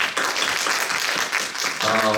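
An audience at an academic forum on traditional Korean music claps in a dense, continuous burst of applause, and a voice comes in at the very end.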